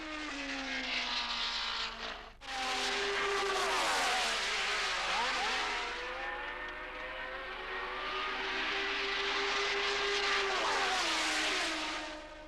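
Loud 1977 Formula 1 race cars scream past the pit straight during a Grand Prix, engines howling with pitch sweeps and a brief dip as one car passes and the next follows closely.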